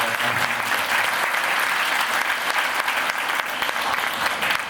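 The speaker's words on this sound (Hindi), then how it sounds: "जोरदार करतल ध्वनि से आपका स्वागत है।" Sustained, dense applause from a large crowd, loud and steady throughout with no pauses.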